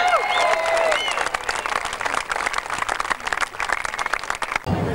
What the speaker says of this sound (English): Let's have another cheer for them.